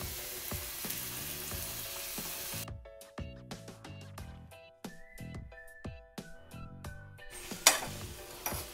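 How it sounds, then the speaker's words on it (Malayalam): Pappadam frying in hot coconut oil, with a crackling sizzle mixed with clattering clinks and tonal ringing sounds, fairly quiet overall with a sharp burst near the end. "വെളിച്ചെണ്ണ ചൂടായി കഴിയുമ്പോൾ നമുക്ക് നമ്മുടെ പപ്പടം അതിലിട്ട് വറുത്തെടുക്കാം"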